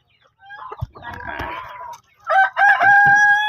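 A rooster at a backyard gamefowl farm crows loudly and close, preceded by a few clucks and scratchy fowl noises, with one full crow ending the moment.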